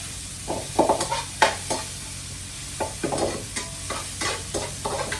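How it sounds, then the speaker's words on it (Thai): Spring onions are stir-fried in a pan with a busy run of close, rhythmic spatula scrapes and clatters over a continuous frying sizzle, with a short pause midway and no speech. "ผัดต้นหอมนิดนึง"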